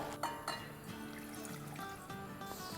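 Water, one and a half cups, poured into a cooking pot on a stove, a steady continuous trickle with a couple of brief splashes, fairly quiet and heard alone without talk.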